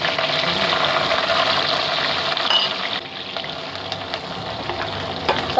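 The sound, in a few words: chopped garlic and green chillies frying in oil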